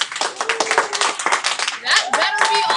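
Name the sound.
students clapping in class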